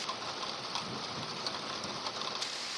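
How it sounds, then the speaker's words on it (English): Hard summer-storm rain falls as a steady, even hiss with faint pattering, moderately quiet and continuous throughout. "because it's raining so hard"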